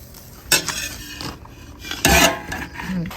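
Vegetables and stir-fry noodles in a home wok, with a few sharp metal clanks and scrapes from a utensil striking the pan over a low cooking hiss.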